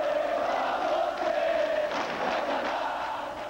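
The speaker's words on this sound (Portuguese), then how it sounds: "a torcida do Corinthians cantou parabéns para você" Corinthians fans sing Happy Birthday together in the stadium during the 2001 Campeonato Paulista match against Santos, a broad, steady roar of massed voices that rises and falls slightly.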